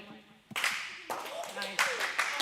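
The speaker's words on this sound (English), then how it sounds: "please do what we call a speech clap or a one clap type of thing" A student awards audience practices a single synchronized speech clap, sharp broadband bursts landing at intervals in a room amid talking voices.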